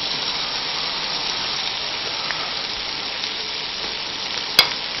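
Batter-coated shrimp frying in hot oil make a dense, even hiss of sizzling that holds steady, close and loud, with one brief sharp tap near the end and no speech.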